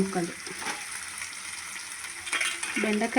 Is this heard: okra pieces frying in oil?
yes